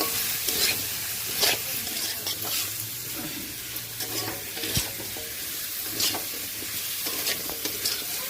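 Cut potatoes frying in oil, stirred in a pan: a continuous gentle sizzle with repeated scraping strokes and light clanks of the spatula against the pan.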